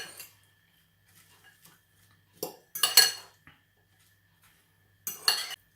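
Shredded red cabbage coleslaw with chopped onion and green onion tops is tossed in a bowl. Utensils clink against the dish in a few short bursts separated by quiet gaps.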